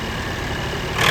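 A Ford 4600 tractor, a Brazil model, roars steadily at high revs during a tractor tug-of-war contest, a dense continuous engine drone that swells louder near the end.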